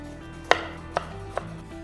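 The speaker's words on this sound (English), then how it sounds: "We're gonna slice carrot." A chef's knife slices a carrot on a cutting board while Korean royal cuisine is prepared: three separate crisp chops, close and clear, with the first one loudest.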